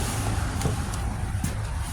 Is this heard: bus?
yes